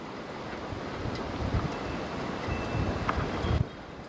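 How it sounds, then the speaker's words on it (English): Wind gusting through trees outdoors after a snowstorm in cold weather, a steady broadband rush with gusts swelling and fading throughout, no speech. "Those trees blowing around."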